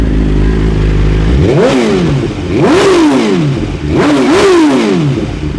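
A 2023 BMW S 1000 RR sport bike engine revs loudly and close, three sharp throttle blips rising and falling over a steady idle, with crisp response in road mode after an ECU flash.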